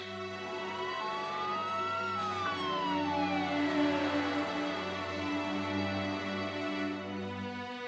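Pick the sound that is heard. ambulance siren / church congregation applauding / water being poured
ambulance siren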